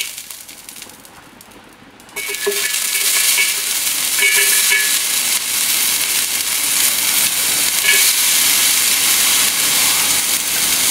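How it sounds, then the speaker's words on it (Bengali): Garlic and ginger hit a hot pan of oil on a flat griddle, a sudden loud, steady sizzle bursting in after a quieter moment and frying on continuously up close. "ওই একই তাওয়ায় আমি এখন রসুন আর আদা ভেজে নেব।"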